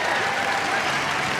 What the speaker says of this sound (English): She gets a cheer from the crowd.